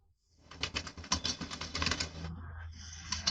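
Rapid clicking of keys on a computer keyboard, a steady run of close, distinct taps lasting a few seconds before a short pause and a few more keystrokes.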